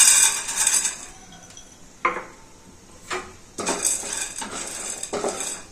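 Roasted gram (putnalu) tipped in for peanut chutney gives a dry, rattling clatter in a metal vessel, coming in several short bursts with quieter gaps between them, close and fairly loud.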